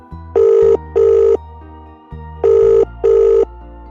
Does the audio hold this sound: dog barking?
no